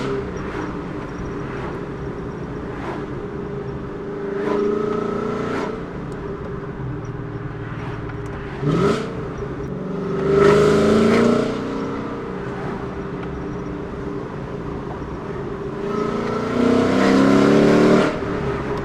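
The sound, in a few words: S197 Mustang GT V8 exhaust with Valvetronic Designs mufflers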